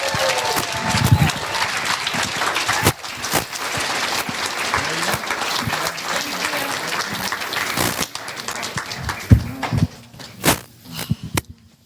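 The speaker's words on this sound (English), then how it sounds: "let's give Miss Leslie Wren one more big round of applause" Audience applause at a retirement celebration, a dense, loud round of clapping that holds steady for about eight seconds, then thins out into scattered claps and room noise.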